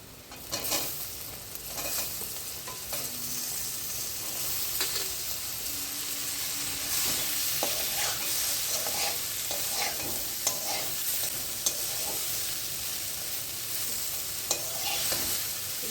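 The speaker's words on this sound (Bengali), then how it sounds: "কিছুক্ষণ ভাজা ভাজা হয়ে গেলে আমি এই কেটে রাখা উচ্ছে আর আলুগুলো দিয়ে দিচ্ছি।" Sliced bitter gourd and potatoes sizzle steadily in hot oil in a pan, with repeated scraping stirs from a spatula, loud and close with no talking.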